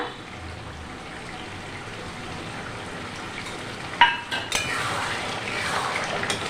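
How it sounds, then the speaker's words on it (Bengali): Chicken kosha in a pan being stirred after shahi garam masala goes in, a steady low sizzle with occasional metallic scrapes and clinks of a spoon against the pan, louder after the midpoint. "একটু নেড়ে চেড়ে নিলাম গরম মশলাটা দিয়ে"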